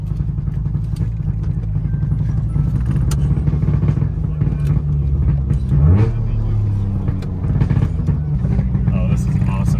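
A modified 1961 Saab 96 engine while driving, a loud, steady, rumbling drone with a brief rise in pitch midway, heard from inside the car with occasional clatter.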